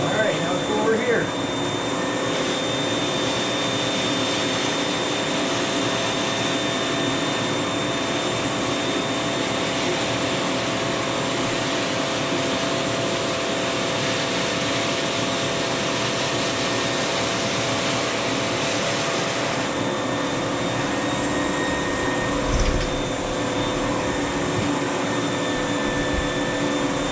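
Carpet cleaning machine runs with a steady, loud suction whine as it pulls water back out of a carpet, a continuous even roar throughout.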